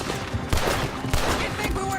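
Gunfire in a Red Dead Redemption 2 shootout, a dense fusillade of shots with sharp louder cracks near the half-second and one-second marks over a continuous rumble of battle.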